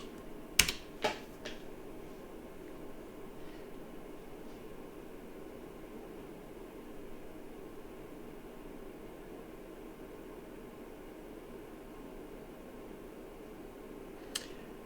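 Typing a password on a computer keyboard during an Ubuntu install, a quick burst of faint, close key clicks at the start and a single click near the end over quiet room hiss.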